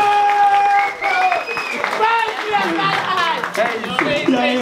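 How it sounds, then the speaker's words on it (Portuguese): Applause and cheering from the audience at a rap battle at Sesc Guarulhos, loud and sustained, with voices and music tones mixed in throughout. "aplausos para pâncreas"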